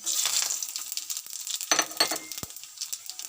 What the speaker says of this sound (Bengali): ফোড়নটা একটু ভাজা ভাজা করে নেব